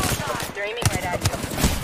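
Automatic gunfire in the video game Apex Legends, bursts of rapid shots crackling loudly under continuous chatter from players.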